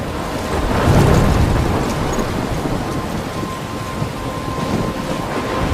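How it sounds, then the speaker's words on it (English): A loud thunderstorm in Life is Strange, with a rumble of thunder swelling near the start and steady heavy rain and wind hissing throughout, with no talk. "I'm trapped in a storm?"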